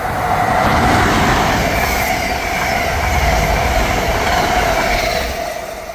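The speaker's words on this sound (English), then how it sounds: "There goes an express train." An Amtrak express train on the Northeast Corridor roars past at close range at about 110 mph, a loud sustained rush of wheels and rail noise that slowly fades toward the end.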